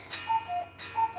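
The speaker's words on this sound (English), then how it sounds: "You can hear my cuckoo clock chiming in the background." A cuckoo clock ticks steadily while short, bright chime tones ring out in pairs, close by in a quiet indoor room.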